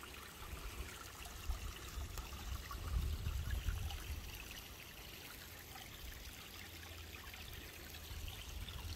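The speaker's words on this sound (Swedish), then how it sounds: "Jag gillar den här bäcken också." Water trickles softly and steadily in a small garden stream, faint and continuous, with low background rumble and no voices.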